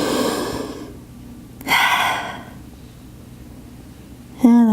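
A person resting in yoga child's pose takes slow, deep breaths: a long audible exhale, a sharp inhale, then quiet, ending with a brief vocal sound; close and clear in a quiet room.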